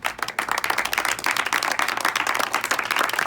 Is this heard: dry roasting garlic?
no